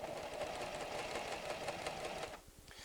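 A PFAFF creative 7550 sewing machine stitches fabric with a fast, even mechanical whir, close and fairly quiet, running for over two seconds before stopping and leaving a few faint clicks.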